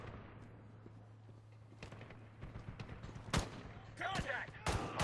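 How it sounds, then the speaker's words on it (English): Pistol fire in a video game, a few sharp cracks and thuds scattered over the last seconds against a low steady hum, with a voice sounding under the action. "Oh, I got a pistol! With unlimited ammo!"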